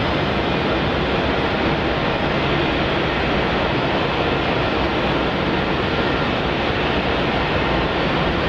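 A Qantas Link Boeing 717 airliner at Melbourne Airport gives a steady, broad roar of jet engine noise, loud and continuous throughout with no talk.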